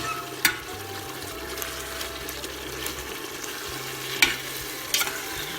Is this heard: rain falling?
no